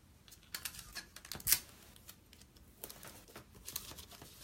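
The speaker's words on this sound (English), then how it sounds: "So I'm going to tape this on." Tape is pulled and pressed on by hand at close range, producing soft crinkling, tearing and tapping bursts with one sharper rip, fairly quiet and with no talk.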